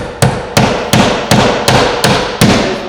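Simplex nails are hammered into roof plywood for an EPDM rubber membrane with seven sharp, evenly spaced hammer strikes, loud and close, each ringing briefly before the next blow.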